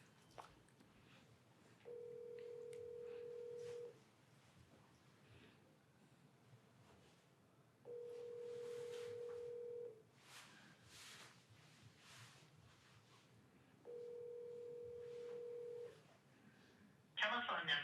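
A FaceTime call rings out with three steady two-second ringback tones spaced evenly apart, while people chat quietly in the background between rings.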